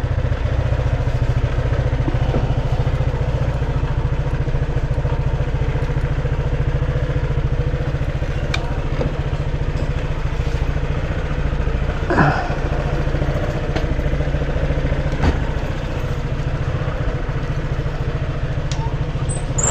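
A Honda motorcycle idles close by with a low, steady, even drone that holds throughout. A few faint clatters and passing sounds come from the street around it.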